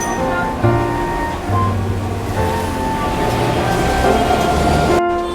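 A two-car Kolkata tram runs on its rails between Shyambazar and Esplanade: a continuous close rumble layered with sustained wheel squeals and whining tones, ending in a sudden brief clatter.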